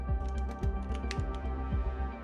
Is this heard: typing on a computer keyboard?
yes